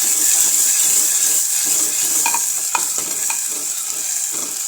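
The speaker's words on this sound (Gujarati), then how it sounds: "સ્વાદ પ્રમાણે મીઠું અને બધું સરસ રીતે મિક્સ કરી લઈશું।" Salt and tomato gravy being stirred in a hot cooking pan for a Gujarati val bean curry, with a continuous bright sizzle and a few sharp spoon scrapes and clinks against the pan, close and without talk.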